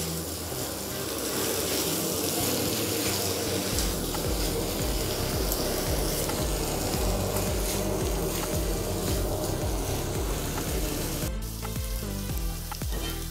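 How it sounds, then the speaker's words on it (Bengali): Fried egg being stirred into potatoes in a hot pan for a homestyle egg aloo dum, with a steady close sizzle and frying hiss throughout, brief scraping at the end. "দিয়ে আবারও ভালো করে আলুর সাথে মিশিয়ে নেব।"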